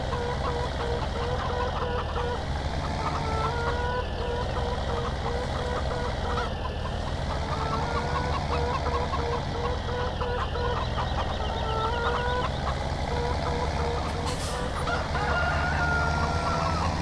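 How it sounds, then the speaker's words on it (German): Chickens in a farmyard coop in the video game Farming Simulator 17 (Landwirtschafts-Simulator 17) cluck and crow in a dense, continuous chorus over a steady background drone, with no talking. "Hühner, verzeiht mir, legt weiter fleißig Eier."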